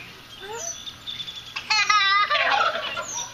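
Farm poultry making throaty gobbling, clucking calls close by, a burst of rapid warbling notes in the middle among a few higher chirps, with quiet ambient noise around.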